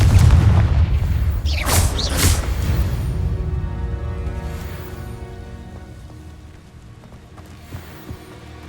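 A Confringo fire spell explodes in the Hogwarts Legacy video game, a loud deep boom with a bright whooshing burst that rolls off into a slowly fading rumble; no voices.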